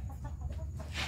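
A chicken suffering from worms clucks in a few short, close, soft calls over a low background hum.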